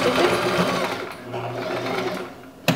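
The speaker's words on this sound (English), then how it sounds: "Slow to the end, and we're going to backstitch again. And so you just want to hit that reverse button." A sewing machine runs steadily as it backstitches along a pillow seam, a continuous close mechanical whir that slows near the end before a sharp click.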